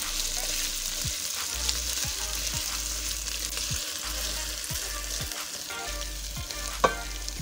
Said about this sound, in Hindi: आलू को भी 3 बार फ्राई करना है कि इन पे भी अच्छा सा कलर आ जाए।